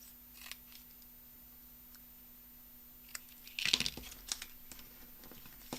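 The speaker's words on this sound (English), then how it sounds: "I'm just going to trim that down" Scissors trimming quilting fabric in a quiet room, a short burst of crisp snipping clicks in the middle followed by a few isolated cuts, with low background hum.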